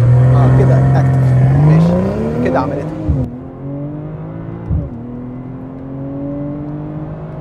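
A BMW M340i xDrive makes a launch start: the engine holds high revs on the brake, then climbs loudly as the car accelerates, with two gear changes. Someone talks over it.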